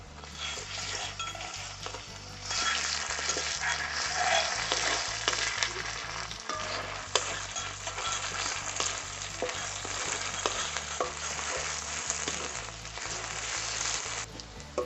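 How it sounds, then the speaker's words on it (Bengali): Onion with ginger and garlic paste sizzling steadily in a pan for a Bengali chicken curry, with a continuous loud fry and occasional stirring scrapes throughout. "আদা আর রসুনটা দিয়ে আমাদের ভালো করে পেঁয়াজটা ফ্রাই করা হয়ে গেছে"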